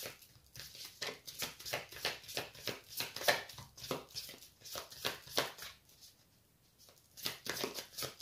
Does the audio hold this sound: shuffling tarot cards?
yes